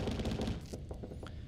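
Rapid bursts of assault gun fire in the space game Starsector, a dense rattling volley that briefly thins out near the end.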